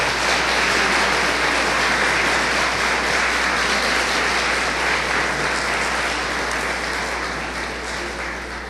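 Loud, sustained applause from a church congregation at a Sunday service fills the space for several seconds, a dense steady roar of many hands that tapers slightly toward the end.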